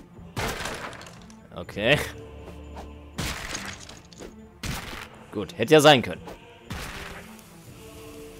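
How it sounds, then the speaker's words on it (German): A South Park role-playing game makes sharp, crashing explosion and shattering bursts in the warehouse, several hits spread across the stretch, while someone comments in German between them. "Das hätte eigentlich noch ein bisschen mehr explodieren müssen."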